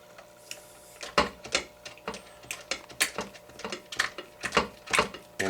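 A small screw being driven by hand into an HPI Baja SS RC car chassis gives a close run of quick, irregular clicks and ticks with no talking.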